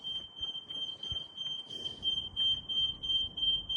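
A house smoke alarm shrieks with a steady high-pitched tone, continuous throughout, over a low rumbling background.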